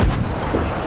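A tank cannon fires in World of Tanks, one heavy booming blast with a deep low rumble that fills the whole moment, loud and close, with no voices over it.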